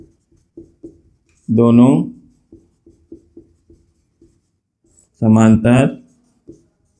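Chalk or marker taps and short strokes on a board during a Class 10 arithmetic progression maths lesson, a series of brief, evenly spaced ticks between two bursts of speech.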